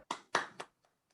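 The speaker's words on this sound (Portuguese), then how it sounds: "Valeu, aquelas palmas." A small group claps at a gathering celebrating winemakers' day, giving three short, close bursts of hand claps that quickly die away into near silence.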